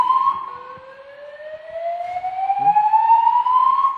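A hotel early alert system alarm wails with rising siren-like tones that sweep steadily upward, loud and sustained, with a faint voice briefly audible beneath it.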